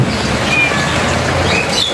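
Steady rain falling outdoors after days of continuous downpour, a dense even hiss with no talk and a faint bird chirp or two above it.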